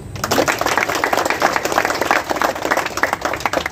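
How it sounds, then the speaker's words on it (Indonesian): An audience at a Jumat Curhat gathering with the Kapolda of NTT in Nunbaun claps steadily for a few seconds, a dense, even patter of many hands up close. "Tepuk tangan dulu."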